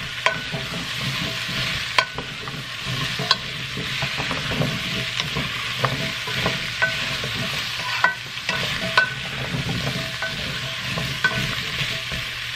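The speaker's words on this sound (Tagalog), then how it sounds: "Haluin." Pumpkin being stirred in a frying pan over steady sizzling, with repeated utensil scrapes and light clinks against the pan at an irregular rhythm, close and moderately loud.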